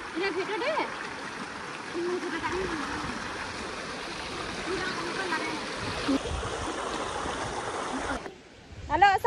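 Water from a river stream rushes and splashes steadily up close while people cross it, with voices heard over the flow, and a brief shift in the noise near the end.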